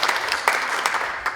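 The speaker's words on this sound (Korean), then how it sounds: "박수 한번 보내시고" Brief burst of hand clapping from members at a general assembly of a digital photographers' association, sharp individual claps standing out within a short round of applause.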